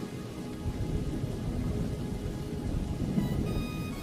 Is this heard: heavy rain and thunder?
yes